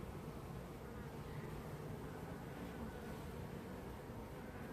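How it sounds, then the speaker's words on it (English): A steady, dense buzzing of many honeybees swarming, continuous and fairly even throughout, with no voices. "these bees this year. They're really intent on swarming."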